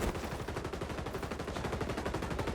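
Rapid AK-47 automatic fire in the shooter game XDefiant, a dense, steady stream of quick shots with no pauses, moderately loud and without voices.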